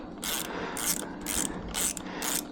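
A ratcheting wrench turns a cam retainer bolt on a Honda Grom during an intake cam install, five quick close clicking bursts at an even rhythm, faint overall and with no talking.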